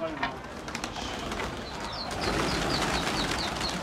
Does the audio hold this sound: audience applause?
no